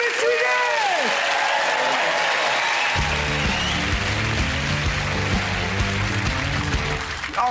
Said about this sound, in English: A massive round of applause for probably my favourite mystery guest!